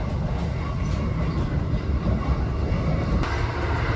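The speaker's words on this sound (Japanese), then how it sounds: "列車は今4号を通過してます。" Thunderbird limited express train on a detour via Maibara, heard from inside as a steady rumbling roll over the rails with faint rhythmic clatter, continuous and fairly loud throughout.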